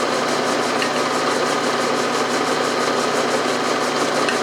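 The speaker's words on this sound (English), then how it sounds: "climb milling, which always gives a better finish, I've found" A small milling machine climb milling a steel workpiece in a cold shop, giving a steady, continuous motor and cutting drone with faint rhythmic pulsing, moderately loud and close, with no talking.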